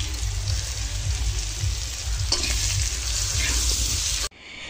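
Oil sizzles loudly in a hot pan while chowmein is being cooked, a steady close hiss with crackling spatter that cuts off abruptly near the end.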